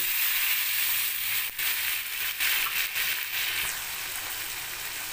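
Water poured into a hot pan of onion curry for tilapia sets off a loud, bright hiss and bubbling. It runs steadily with a few soft knocks and a brief dip, and no one speaks.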